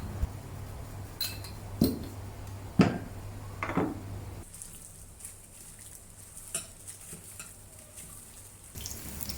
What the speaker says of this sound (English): Pan fry the pork chops both sides until golden brown